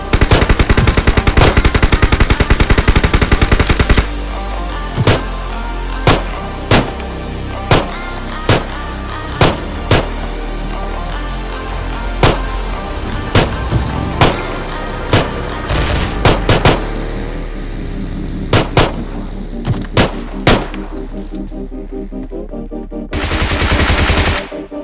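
Loud video game gunfire from Newton and M16 weapons, with a sustained burst of rapid shots at the start, then repeated short bursts spaced apart, and a final loud burst near the end.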